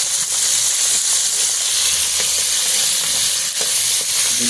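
Prawns fry village-style in a pan for butter prawn curry, with a constant close hissing sizzle and scattered spatula scrapes and pops throughout, no voice.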